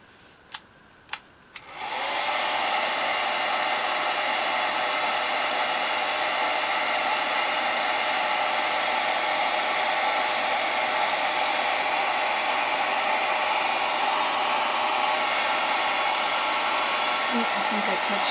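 A hair dryer switches on after a few faint clicks and then blows in a loud, constant whooshing whine while drying black slip on ceramic planters, running steadily without talk.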